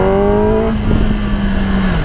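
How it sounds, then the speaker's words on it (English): The 2021 Kawasaki ZX-10 engine auto-blips on a street ride: a loud, close engine tone drops sharply in pitch as the gear changes, then settles into a steady drone under wind noise. "Just hit the auto blip."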